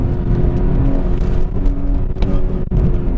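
Engine of a 2016 BMW 340i F30 under hard acceleration on a track, a loud, steady, close-up drone with slight shifts in pitch from start to finish and no speech.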